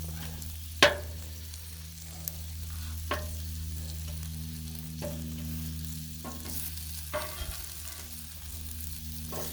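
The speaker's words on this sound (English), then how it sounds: "Getting a nice sear on the meat." Beef and noodles sear on a Blackstone flat-top griddle with a steady, quiet sizzle, broken by a few sharp metal spatula scrapes and taps spaced a second or two apart.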